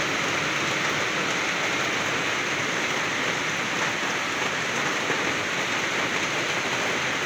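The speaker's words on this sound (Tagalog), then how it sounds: "Malakas ang ulan." Heavy rain pours steadily in a dense, unbroken roar with no pauses and no voices.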